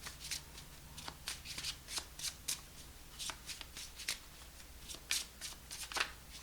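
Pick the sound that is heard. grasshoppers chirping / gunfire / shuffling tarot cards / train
shuffling tarot cards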